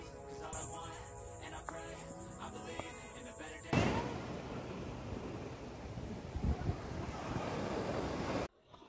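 Atlantic Ocean surf rolls and washes steadily with heavy wind buffeting the microphone, a loud crash of breaking waves near the middle as a surfer tries to catch a wave; a short tonal hum plays early on.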